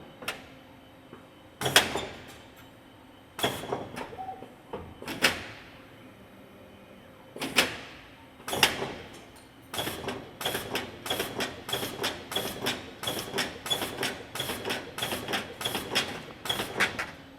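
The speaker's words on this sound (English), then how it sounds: "material is making its way out of the bending nozzle here" A ChannelBender SXP channel letter bending machine works .040 material, giving sharp mechanical clacks and thumps that start spaced out and then speed into a rapid, steady run of close, loud hits.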